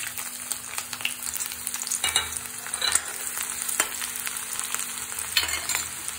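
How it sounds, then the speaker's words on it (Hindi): Bay leaf and onion sizzle in hot oil with a bright, continuous crackle close to the mic. Sharp spattering pops and stirring scrapes rise now and then over the steady frying hiss. "अब मैं डालूँगी, तेल गरम हो चुका है, इसमें तेज पत्ता और ये बची हुई प्याज।"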